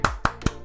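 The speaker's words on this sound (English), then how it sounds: "Applause for him." Four quick, sharp hand claps sound close by at an even, brisk rhythm, with no voices.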